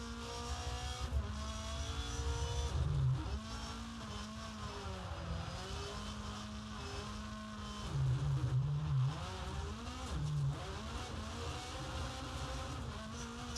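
A rallycross car laps the Circuit de Barcelona-Catalunya, its engine droning steadily with rising and falling pitch as it accelerates, shifts and brakes, loud and close throughout with no talk.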